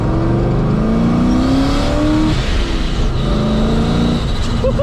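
Supercharged Ford Mustang with a ProCharger accelerating hard in second gear, a loud steady engine roar with rising pitch heard from inside the car, boost whine climbing, no talking over it.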